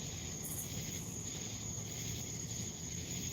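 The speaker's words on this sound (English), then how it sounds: "The crickets and the cicadas are noisy." A steady, high insect drone fills the hot, muggy night air on a porch, a constant chorus of crickets and cicadas with no pauses, soft and distant.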